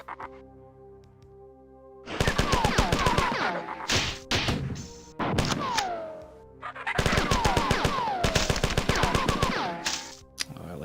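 Rapid machine-gun bursts from the 1994 video game Marathon, fast regular shot trains in two long runs separated by brief pauses and a few single heavy thuds, loud and close, with no talk.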